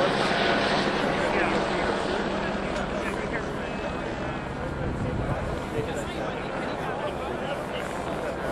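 A Boeing 787 Dreamliner taxis before its first flight, a continuous broad roar of jet engines heard from outdoors at a distance, with people talking faintly nearby.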